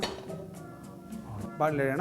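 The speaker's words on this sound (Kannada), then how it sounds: "ಇದರ ಮೇಲೆ ಇನ್ನೊಂದು ಬಾಣಲೆ ಇಡೋಣ" A second frying pan (kadai) set down on top of another on a kitchen stove, a close metallic clank and clatter that rings briefly, with a voice talking over it.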